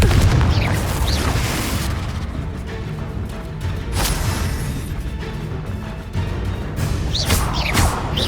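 Confringo blasting spell in the Hogwarts Legacy video game, a sustained loud booming explosion with crashing debris and rumble that fills the whole stretch.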